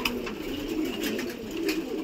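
Pigeons at a pigeon loft give soft, low cooing under a steady background hiss. The faint calls repeat a few times, close by and unhurried.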